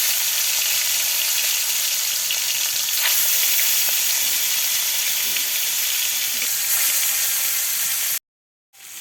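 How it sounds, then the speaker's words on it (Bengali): Seasoned fish frying in hot oil, a loud, steady, close crackling sizzle that runs unbroken before cutting off abruptly near the end. "তেল গরম হয়ে গেছে, এবার মেখে রাখা মাছগুলো দিয়ে দিচ্ছে।"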